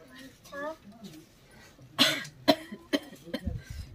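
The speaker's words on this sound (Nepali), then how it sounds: "यो खोकीले फेरि च्याप्न थाल्यो।" A run of three or four harsh, close coughs comes in quick succession from a person with a recurring cough in a Nepali village drama, preceded by brief faint vocal sounds.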